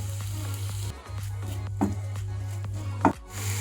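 Chicken frying in a pan with onion, chopped tomato and salt, giving a steady close sizzle broken by a couple of sharp scraping and stirring clunks, with no talk.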